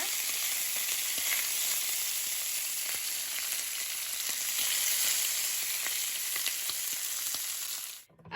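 Pork browns in lard in a cast iron pan, giving a steady, close, bright sizzle with faint crackles and no talk, cut off abruptly at the end.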